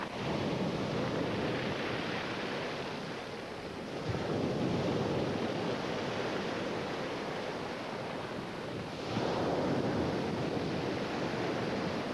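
Ocean waves wash up and draw back on a Hawaii beach in a broad, continuous roar, with two stronger surges rising and fading over several seconds, and no talking.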